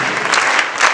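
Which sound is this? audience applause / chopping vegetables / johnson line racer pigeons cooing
audience applause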